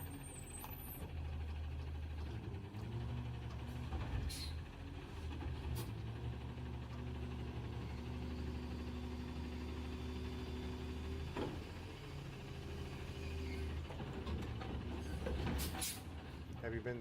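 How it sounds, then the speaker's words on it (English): Garbage truck engine idling quietly and unevenly as if about to stall, a low rumbling hum throughout with faint clanks and a brief hiss, people talking nearby. "this truck is so quiet and everything else, and the way it's running, it sounds like it's wanting to stall"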